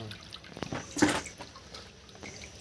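Soybeans are washed by hand in water, with soft sloshing and dripping and one brief splashy burst, close and quiet, with no talk.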